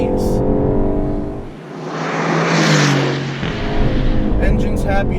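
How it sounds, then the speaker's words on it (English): A 2019 Aston Martin Vantage engine revs up loudly from the cabin while driving, swelling and easing over a few seconds with steady road and engine drone throughout. "Engine's happy to rev."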